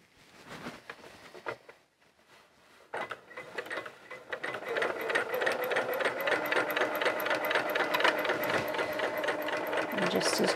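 Sewing machine top stitching a child's coverall, a few stop-start bursts of close mechanical clatter, then a long steady whirring, rattling run that grows louder.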